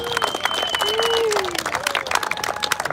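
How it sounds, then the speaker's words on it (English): A crowd at an outdoor car rally in Fairfax, Virginia applauds a community speaker, with clapping and cheering that blends with whistle-like tones and excited voices. "So another big round of applause for community woman, Patty Ryan."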